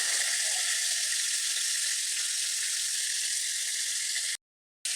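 Pieces of hilsa fish frying in hot oil, a constant close sizzling hiss that holds steady and then cuts off abruptly into brief silence near the end.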